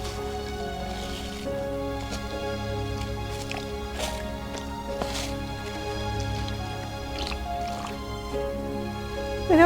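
During a pedicure, water splashes and drips softly in a foot bowl as exfoliant is rinsed off the feet, quiet intermittent squishing and trickling over a steady low hum.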